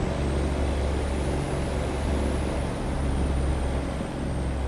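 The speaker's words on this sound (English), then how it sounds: "Truck's a little loud, ain't it?" Jasper W900 truck engine in American Truck Simulator, a steady loud diesel drone with constant low rumble and no speech.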